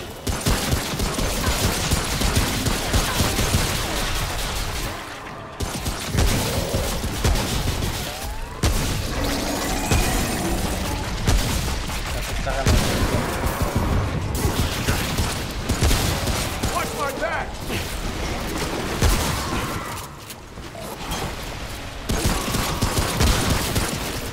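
Video game gunfire rattles nonstop in dense automatic bursts from shooters, loud and close, with brief pauses. Excited players talk over it.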